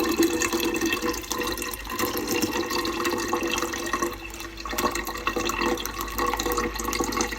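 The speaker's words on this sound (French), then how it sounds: "On prend notre préparation. Et on la fait couler dans la carafe définitive." Homemade lemonade poured through a strainer into a serving carafe, a steady close trickle and splash of liquid running continuously with slight swells, no voices.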